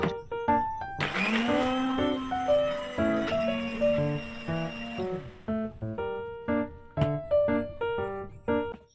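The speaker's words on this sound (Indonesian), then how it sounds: "aku pribadi itu lebih suka kalau tumis kangkung bumbunya itu aku blender" An electric blender grinds spice paste for stir-fried water spinach in a home kitchen, running loud and steady for a few seconds, then cutting in and out in short pulses.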